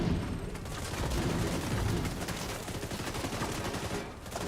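Rapid automatic gunfire and heavy booms from The Division 2 blend into a dense, continuous barrage of shots and explosions.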